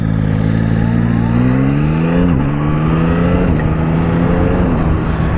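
An automatic motorcycle accelerating in first gear gives a loud, steady engine drone whose pitch climbs smoothly, dips briefly at a shift, then rises again, with no talking over it.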